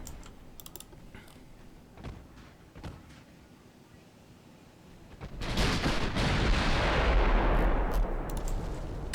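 Naval shells strike a ship in the Ultimate Admiral Dreadnoughts naval combat game, a quiet stretch of faint clicks giving way to a sudden loud, sustained roaring impact and rumble that lasts several seconds.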